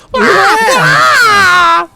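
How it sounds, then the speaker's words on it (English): A man's comical, drawn-out scream from a film scene as women run toward the screen, one continuous wavering yell of nearly two seconds, loud and close. "I don't think we ever mentioned the scream in this one is hilarious"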